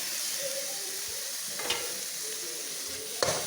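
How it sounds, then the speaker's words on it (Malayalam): Onion and tomato sautéing in a pan give a steady, moderate sizzle throughout, with a couple of brief stirring scrapes standing out, and no voices. "സവോള, തക്കാളി ഒക്കെ നന്നായിട്ട് വഴന്നു."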